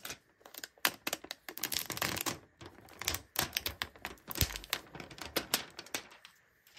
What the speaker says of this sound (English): Let's see if we can get this plastic wrap off here.